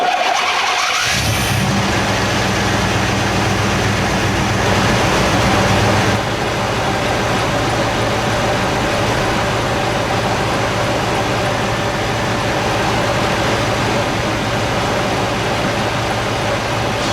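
Chevy K5 Blazer engine cranking and catching after a crank-no-start electrical fault, then running steadily at a loud, close, even idle with no talk.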